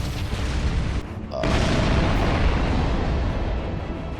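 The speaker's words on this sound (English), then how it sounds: "Prepare to fire the Vanguard cannon." The Vanguard cannon fires in the Sunrider space game, a loud, sustained booming blast with rumbling roar that swells after a brief dip and then holds heavy and dense, close and overwhelming.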